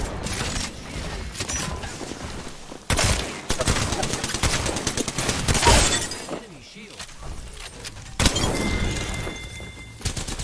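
Video game gunfire in rapid bursts with sharp cracks and shattering impacts, loud and dense, broken by a quieter lull before another volley, while someone talks over it.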